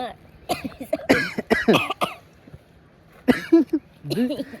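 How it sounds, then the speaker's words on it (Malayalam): A person coughs in several harsh bursts across the clip, one cluster early and another later, with talking mixed in between the coughs. "ചുമ ഇതുവരെ വിട്ടു മാറിയിട്ടില്ല"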